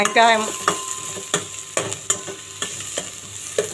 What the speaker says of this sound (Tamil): எண்ணெய் ஊற்றி